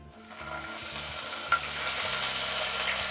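Ginger garlic paste frying in hot oil with fennel and cumin, a steady close sizzle with stirring and a brief utensil clink, no talk.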